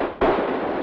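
Firecrackers bursting in a sharp crackling volley that starts abruptly and then keeps up as a dense, loud, continuous rattle of pops, with no talk over it.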